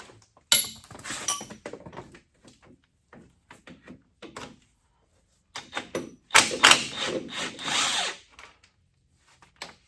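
A power tool loosens bolts on the hydraulic pump of a Case/David Brown 995 tractor, with several short bursts of whirring and rattling, one longer louder burst near the end, and clunks between them.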